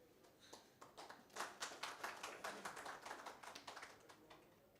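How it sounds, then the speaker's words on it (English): Scattered hand claps from a small conference audience, quiet at first and building to a sparse, uneven patter of individual claps before tapering slightly. "A huge round of applause."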